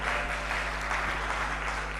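An audience at an alumni network gathering applauding, a dense, even wash of clapping that continues steadily without pause.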